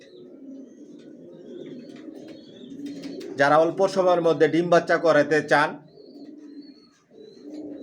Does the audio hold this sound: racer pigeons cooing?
yes